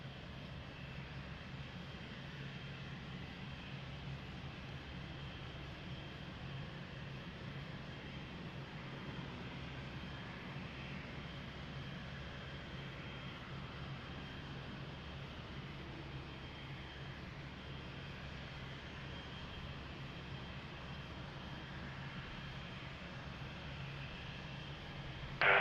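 A United airliner's engines run steadily at Lisbon Airport as it sits ready to taxi, a continuous, even roar with a low hum that holds at the same moderate level throughout, with no voices.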